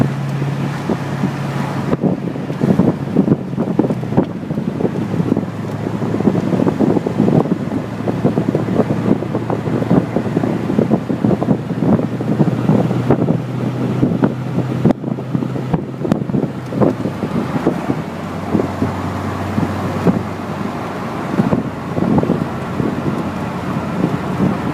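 A 1998 Chevy Corvette Pace Car cruising at about 30 mph in fourth gear, its engine near 1200 rpm, making a steady low drone under a constant rush of wind noise.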